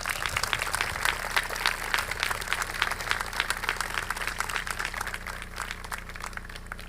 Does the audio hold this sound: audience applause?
yes